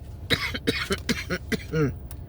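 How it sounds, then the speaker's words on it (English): A short burst of several harsh coughs in quick succession, close by, ending with a throaty rasp. "I'm literally coughing"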